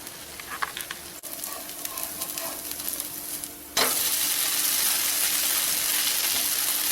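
Wheat rava dosa batter sizzles uncovered on a hot pan, a steady close frying hiss that jumps sharply louder partway through and stays bright and dense to the end.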